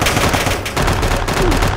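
Loud, continuous rapid gunfire from a weapon in Minecraft during a zombie-filled zoo level, dense bursts filling the whole moment with no pauses.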